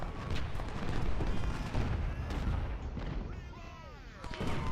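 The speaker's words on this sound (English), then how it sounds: "We got an artillery duel going on here." Artillery duel in the Ultimate General: Civil War strategy game, with dense overlapping booms and cannon fire rolling continuously, a steady barrage of loud reports with a brief whistling shell sound near the end.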